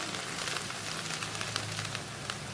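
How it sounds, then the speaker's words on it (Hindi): Onions fry in a pan until light brown, giving a steady, even sizzle with a faint crackle throughout and no voices over it. "अब हम ये डाल देंगे इसमें प्याज का कलर लाइट ब्राउन होने तक इसको फ्राई कर लेंगे"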